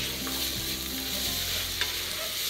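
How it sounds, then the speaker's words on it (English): Chopped vegetables frying in a pan for kielbasa soup, with a spoon scraping and stirring the bottom, a continuous close sizzle broken by brief scrapes. "Scrape the bottom of the pan to get that flavor worked up off it."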